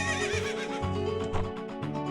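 Epona the horse gives a loud, close whinny in Zelda Ocarina of Time, a wavering neigh with a few soft hoof clops after it.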